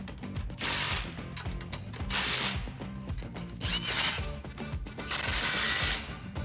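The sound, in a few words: ratchet tightening exhaust clamps on Mustang GT Borla exhaust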